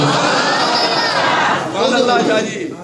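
A congregation in a jamia mosque in Jamshoro Colony, Lahore, chants religious slogans together, a loud massed roar of voices that swells and then fades near the end.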